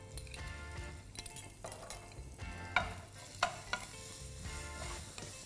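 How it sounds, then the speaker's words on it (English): Cumin seeds, torn curry leaves, ginger and garlic sauté in a hot pan with a steady crackling sizzle, broken by spatula scrapes and a few sharp metallic clinks against the pan. "So once you've sauteed the ginger and garlic a little bit"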